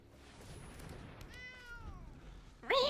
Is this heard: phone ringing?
no